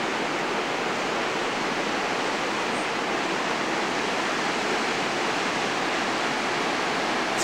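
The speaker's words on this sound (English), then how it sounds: "This is the river after a hard rain," High, muddy river rushing after a hard rain, a dense unbroken roar of water filling the whole stretch, loud and close with no voices.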